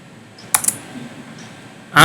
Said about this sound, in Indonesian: Oke, kita coba enter dulu.